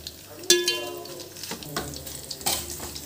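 Green chillies and curry leaves frying in a pan for jeera rice, with a sharp clink near the start and another near the end over a steady soft sizzle and stirring.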